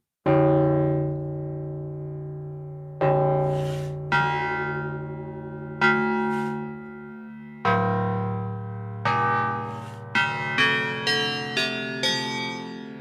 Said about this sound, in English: Actually, we could probably make some cool bell sounds.